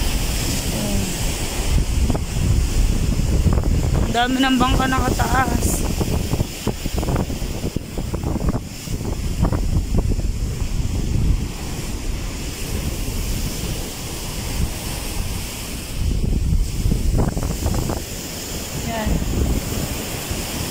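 Sea waves churning under a steady roar of wind in the aftermath of Typhoon Egay, near wrecked beachfront resorts. The noise runs continuously and loud through the whole stretch, with someone talking over it.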